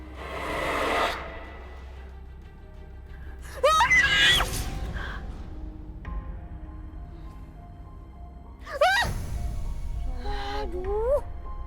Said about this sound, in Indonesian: Ibu bangunin kamu karena dengar teriakan kamu